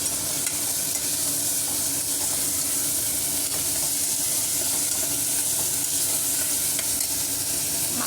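Chopped tomatoes sizzling loudly in a pan for brinjal and drumstick curry, a dense, continuous hissing fry that holds steady throughout with faint scraping of stirring beneath, no talking.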